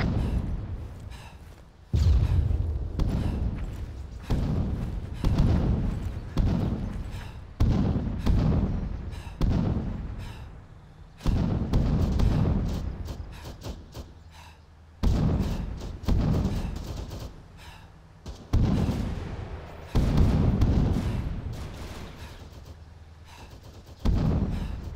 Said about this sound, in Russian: Слышите пушки?